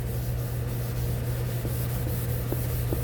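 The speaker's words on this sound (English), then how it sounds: "when you start sanding" Steady abrasive rubbing of a scuff pad on a new, factory-primed plastic bumper, close and continuous, a constant hiss with a low hum underneath.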